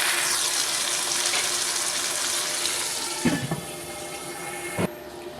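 Water is poured into a pot of cooking keema matar, a spiced minced meat and peas dish, giving a steady rushing splash that stops with a couple of clunks near the end.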